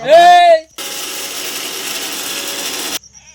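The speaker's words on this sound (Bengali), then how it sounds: "নামিয়ে নিলাম মিক্সিতে গুঁড়ো করতে" A mixer grinder whirs at full speed for about two seconds, grinding fried sago pearls into powder, a steady loud buzzing hum that cuts off abruptly, preceded by a short burst of music.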